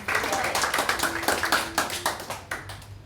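A congregation claps together during a church service, a steady run of quick claps lasting a few seconds at moderate distance, with faint voices mixed in.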